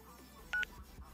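Two short electronic phone-dialing beeps in a GTA roleplay game, crisp and close over a faint background hum.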